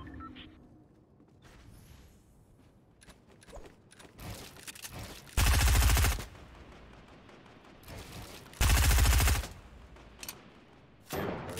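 Fortnite Battle Royale gunfire from solo play: scattered light shots, then two loud sustained bursts of rapid fire about a second long each, with another burst starting at the end. No voices.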